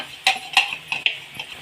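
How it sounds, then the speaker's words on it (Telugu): A spoon stirring chili powder into hot tempering spices in a pan for a lady's finger fry, several sharp metallic scrapes and taps against the pan in quick succession, close and fairly loud, no voices. "పోపులో వేసుకొని ఒక 2 నిమిషాలు అనేది కలుపుకోవాలి మాడిపోకుండా."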